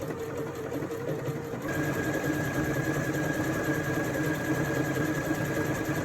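A Janome M200 QDC sewing machine runs steadily while stitching a decorative pattern, a continuous close mechanical whir with rapid rhythmic needle ticking and a high whine that joins partway through.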